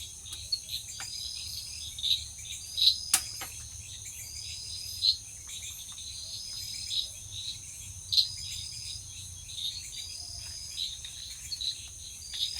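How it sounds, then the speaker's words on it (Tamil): Faint nighttime chorus of frogs giving scattered short chirping calls over a steady high-pitched background drone, in pitch darkness. "மேலுக்கு சத்தம் கேட்குது. தவளையெல்லாம் மேலுக்கு தான் இருக்கோ?"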